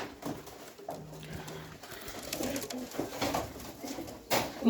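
Soft pigeon coos blend into a busy outdoor background with scattered rustling and a sharper knock near the end.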